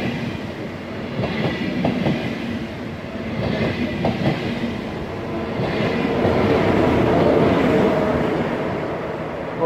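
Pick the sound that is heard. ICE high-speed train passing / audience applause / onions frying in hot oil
ICE high-speed train passing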